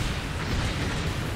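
A random explosion hits the player in the video game EDF 5, a loud, dense, continuous booming roar with no speech over it.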